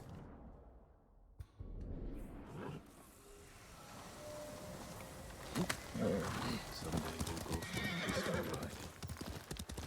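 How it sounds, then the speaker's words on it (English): Horse hooves clip-clop at a gallop with a loud neigh partway through, set in the samurai video game Ghost of Tsushima; game ambience and effects run throughout, growing busier and louder toward the end. "so need my horse."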